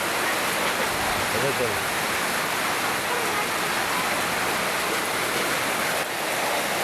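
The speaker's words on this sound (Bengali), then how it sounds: "অনেক বৃষ্টি, দেখছেন দেখেন" A dense, unbroken hiss of heavy rain fills the whole stretch at an even level, with a voice speaking briefly over it.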